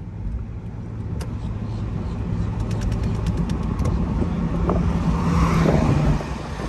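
A Lexus IS250 C hardtop convertible drives down the road with a steady, fairly loud engine hum and road noise that builds slightly as it accelerates, and a few faint clicks come through along the way.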